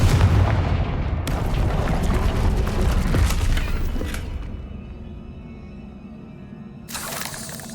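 A Confringo explosive spell bursts in Hogwarts Legacy with a loud, roaring blast that rumbles for several seconds and slowly fades, then a sharper crackling burst follows near the end.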